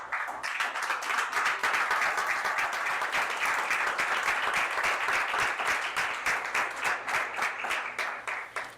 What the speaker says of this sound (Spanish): Y le brindamos un aplauso al Señor.